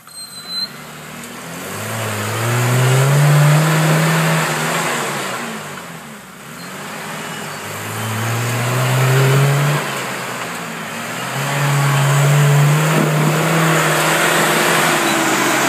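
A Suzuki Samurai on an off-road trail in Harlan, Kentucky, its mid-range engine revving loudly in three long surges, each climbing and falling with brief easing between them.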